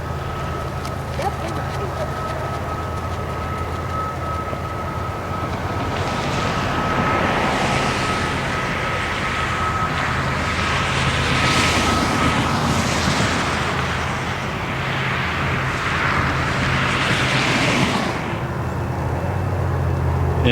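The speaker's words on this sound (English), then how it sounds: "This train that we hear is going to emerge right there." A freight train approaches through Cajon Pass as a distant, steady low rumble that swells gradually, with a sustained tonal whine and broad wash of noise building in the middle before easing slightly.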